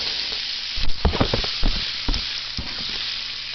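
Cut potatoes dumped into a hot pan and frying, with a burst of clattering and loud sizzling that settles into a steady hiss, close and alone.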